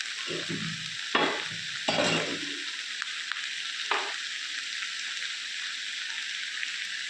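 Chopped onions and tomatoes sizzle and fry steadily in a hot pan, with a few spoon scrapes and stirring bursts early on over a continuous close frying hiss.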